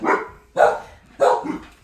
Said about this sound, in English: Nope, ignore the dogs.